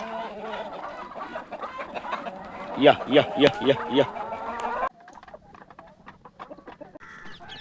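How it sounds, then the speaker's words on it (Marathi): Free-range Black Australorp chickens cluck in a quick rhythmic burst amid farmyard noise, while a person repeatedly calls out to them. "आपल्या सगळ्या कोंबड्या ज्या आहेत ह्या आपण तयार केलेल्या ह्या फार्ममध्ये येत आहेत"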